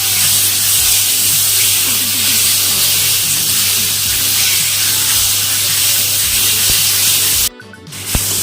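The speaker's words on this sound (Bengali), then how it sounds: "দিয়ে দেবো, লবণ, হলুদ। এটাকে হালকা ভেজে দিতে হবে।" Raw mango pieces frying with salt and turmeric give a loud, steady hiss of sizzling oil for several seconds, ending in a short clatter.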